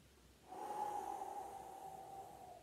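A person taking a single slow inhale during a guided breathing exercise in a strength workout, a soft, steady airy draw close to the mic that lasts about two seconds after a short quiet start.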